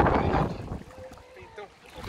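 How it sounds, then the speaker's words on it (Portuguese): Wind blowing along the beach at Barra Sul in Balneário Camboriú, a broad rushing gust that is loudest at the start and then eases into a steady, fainter breeze. "Olha o vento."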